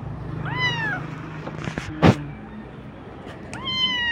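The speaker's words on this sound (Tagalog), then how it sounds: "Anak kasi ito ng pusa ako guys" A kitten gives two high, thin meows, one early and one near the end, with a brief clatter in between.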